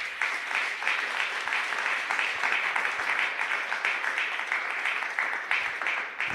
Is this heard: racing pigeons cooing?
no